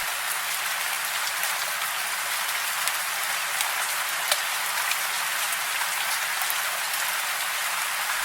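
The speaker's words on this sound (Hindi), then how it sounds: "बारिश रुकने का नाम ही नहीं ले रही है।" Heavy rain pours steadily in a dense, unbroken hiss, with occasional sharper drops standing out against the constant downpour.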